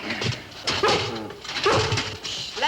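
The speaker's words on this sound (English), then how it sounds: "Lassie, stop barking." Lassie, a collie, barks and whimpers close by in a kitchen during a refrigerator delivery, several sharp yelps in quick succession with little else around.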